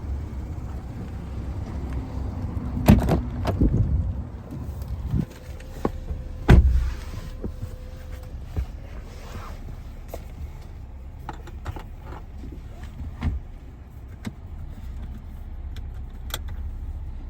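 A 2019 Porsche Cayenne sets off for a drive: keys jangle and there are a couple of sharp door or cabin clunks early on, then a low, steady engine and road rumble continues close by without speech.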